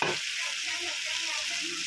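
Potato bhaji frying in a pan as crushed peanut powder is stirred in, a continuous bright sizzle with a short scrape at the start, close and even.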